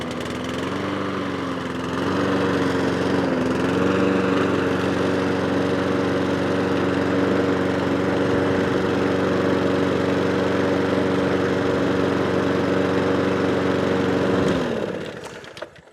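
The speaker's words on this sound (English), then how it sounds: "that's a Cobra Lawnmower now all up and running. It runs on and off a choke." A small petrol lawnmower engine running on choke runs steadily for about fifteen seconds, its pitch wavering at first, then cuts off abruptly.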